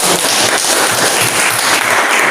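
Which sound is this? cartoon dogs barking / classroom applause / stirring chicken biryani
classroom applause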